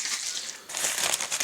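Brass cartridge cases for .308 Win rifle ammunition drop into a plastic bag, giving a short burst of close crinkling plastic with a light rattle, and no voices.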